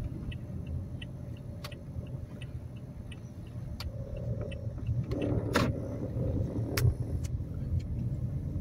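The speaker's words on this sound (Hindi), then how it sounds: "आज थोड़ा ट्रैफिक मुझे ज्यादा महसूस हो रहा है।" Road traffic passing near a shopping mall in Jeddah, a steady low rumble of cars with a few louder vehicles going by partway through, fairly close and continuous with no talking.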